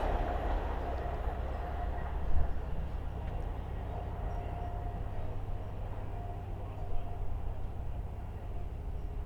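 A Hull Trains class 802 passes through Sandy on the East Coast Main Line, heading from Hull to London King's Cross, a steady rumbling roar with a brief louder burst, held close and even throughout.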